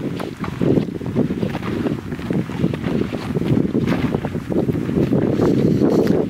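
Wind gusting on a lakeside trail near Blue Miner Lake, Jackson Hole, a dense low roaring buffet on the microphone, loud and unbroken for several seconds with no speech.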